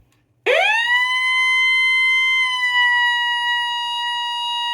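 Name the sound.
weather radio 1050 Hz alert tone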